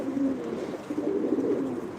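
Pigeons coo in a coop holding about 55 birds, a dense, continuous low burbling of many overlapping calls close by, with no talk.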